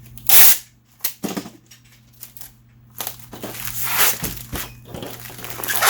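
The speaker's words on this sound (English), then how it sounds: "we're gonna give it the side tape" Packing tape pulled off the roll and pressed along the side of a cardboard shipping box, several loud ripping screeches and slaps separated by short pauses, close by with no talk.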